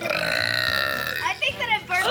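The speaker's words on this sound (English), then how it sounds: "I think that I burped" A person lets out a long, loud burp that rumbles steadily for about a second before breaking into shorter, rougher bursts.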